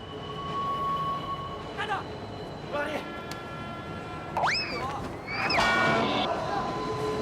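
A train rumbles along the tracks with high metallic squeals and screeching tones rising over a constant low roar, growing louder toward the end.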